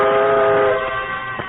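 A steam locomotive whistle sounds a sustained, loud, harmonic tone that fades slightly toward the end, heard on its own.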